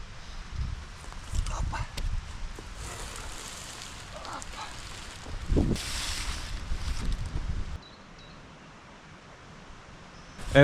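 Wind gusts buffet a shelter built from heavy-duty trash bags on a cold morning, making uneven rustling, flapping and microphone rumble that swell and fade, then drop to a quieter lull near the end.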